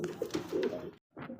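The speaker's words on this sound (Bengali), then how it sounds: "দর্শক বলে যে ভাইটা কি কবুতর, কি কবুতর, ড্যানিশ কবুতর।" Danish pigeons coo in a few soft, throaty bursts, then fall briefly silent before one more short coo, close by with no voices.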